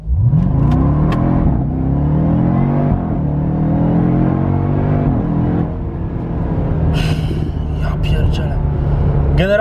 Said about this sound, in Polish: Pomiar przyspieszenia od 0 do 100.